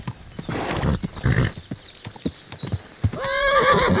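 Hooves clip-clop at a gallop in an uneven rhythm, then a horse lets out a loud, shrill neigh at the end, in the video game Kingdom Come: Deliverance II.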